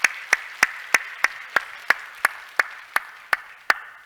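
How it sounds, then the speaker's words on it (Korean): A church congregation claps to welcome a guest, about a dozen sharp, evenly spaced claps landing in steady unison, fairly close and crisp, with no talking over them. "우리 박수로 한번 환영합시다."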